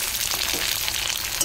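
Chopped tomatoes go into a pan of frying onions, and a constant close sizzle hisses steadily throughout the brief moment without any voices.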